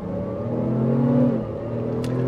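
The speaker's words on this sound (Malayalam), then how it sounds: "അപ്പോൾ ഇനി നമ്മൾ നെക്സോൺ ഒന്ന് എക്സ്പീരിയൻസ് ചെയ്യാൻ പോവാണ്." A 2024 Tata Nexon automatic accelerates along an empty road, its engine drone rising steadily in pitch then easing, with a constant tyre and road rumble close by.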